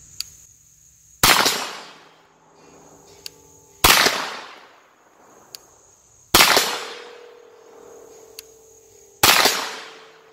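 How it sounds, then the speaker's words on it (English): Four loud, sharp gunshots from a Kel-Tec Sub 2000 firing cast lead ammunition, evenly spaced a few seconds apart outdoors, each with a ringing decaying tail, and faint clicks between them, no speech. "out of 6 shots at this spot, I was holding dead on, just like I was with the factory ammo"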